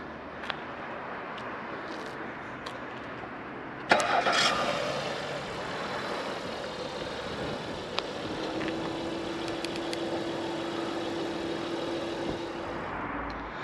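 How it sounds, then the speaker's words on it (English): A 2018 Acura TLX 3.2 A-Spec starts by remote start, with a short crank and a sharp catch, then settles into a quiet, steady idle, heard from outside the car. "On the key fob, first you need to lock the vehicle, then press and hold the remote start button."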